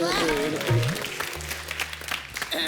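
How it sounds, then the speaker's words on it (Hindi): Clapping and cheering from an audience rise under a loud voice speaking over the noise. "इनके लिए जोरदार तालियां"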